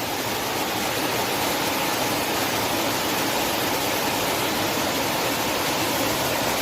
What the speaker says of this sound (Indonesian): Langsung kita mendapatkan air terjun dari tingkat yang di atasnya.